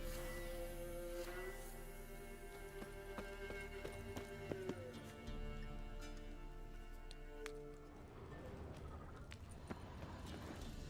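Roach, a horse in The Witcher 3 video game, gallops with a quick, continuous clip-clop of hooves under steady background music, faint and even throughout.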